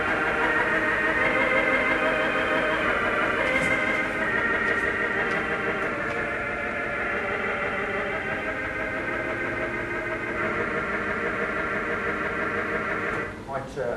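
Wurlitzer theatre organ at the Peel Green heritage centre playing its vox humana rank with tremolant, a sustained reedy chorus of held notes with a steady wavering pulse, continuous and moderately loud throughout.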